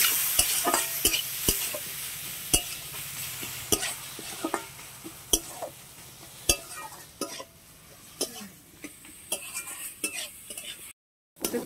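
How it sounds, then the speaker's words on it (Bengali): Potato, tomato and onion stir-fried in a pan, sizzling steadily while a utensil scrapes and taps the pan in sharp, irregular strokes, close up and fairly quiet, with no talk. "ঘুরে গেল আর আলু টমেটোটা পেঁয়াজগুলো এরকম ভাজা হয়েছে।"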